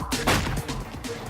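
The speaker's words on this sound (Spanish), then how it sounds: "¿Has captado el disparo?" A single gunshot captured by gunshot-detection microphones used to triangulate where shots are fired, arriving as a sharp broadband crack followed by a rolling, diffuse echo that fades over about a second.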